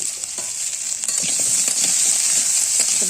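Potatoes and slit green chillies fry in a pan for a bitter gourd and potato curry, giving a steady, close, bright sizzle with scattered soft scraping taps from stirring.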